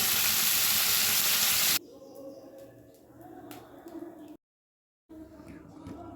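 Snakehead (lata) fish frying in hot oil, a loud steady sizzle for the first couple of seconds, then quieter crackling and clinks of a utensil in the pan, with a brief silent gap before faint sizzling resumes.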